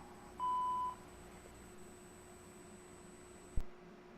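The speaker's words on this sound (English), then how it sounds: "please leave a message after the tone" A single steady voicemail beep tone sounds after a recorded greeting, clear and moderately loud, lasting about half a second, followed by quiet line hiss and a brief click near the end.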